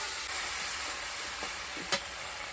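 Garlic and spices fry with pointed gourd in a pan, giving a steady, close sizzle with a few light stirring scrapes and one brief sharper clink near the end, no voices.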